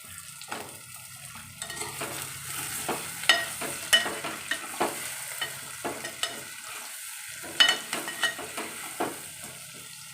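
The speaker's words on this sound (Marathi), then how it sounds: "आता ही वांगी मी टाकणार आहे त्यामध्ये" Eggplants sizzle in a pan with fried onion while a spoon stirs them, making steady close frying hiss broken by repeated scraping and clinking strokes against the pan, with no voices.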